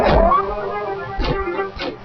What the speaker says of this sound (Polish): Piesie tutaj są.